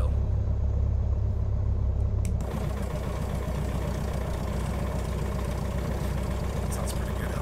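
Piston engine of a Carenado Arrow light aircraft idling in Microsoft Flight Simulator, a steady low rumble that drops slightly in level partway through and then holds even, with quiet speech over it.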